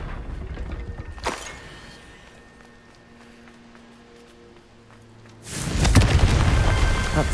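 A Confringo blasting spell explosion in Hogwarts Legacy: after a sharp crack and a quiet, low ambient stretch, a loud, sustained roaring blast erupts and fills the last couple of seconds.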